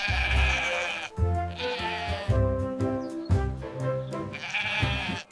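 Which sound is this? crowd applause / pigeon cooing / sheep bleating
sheep bleating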